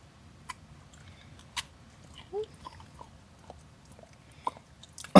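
A dog chews and crunches a treat in a few sparse, sharp bites and clicks spread over several seconds, quiet against a faint background hiss.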